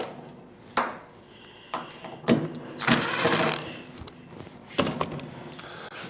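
Sheet metal screws being removed from the shield of a Heat Wagon P1800 electric heater, with scattered sharp metallic clicks and scrapes and one longer rattling burst, close by in a quiet room.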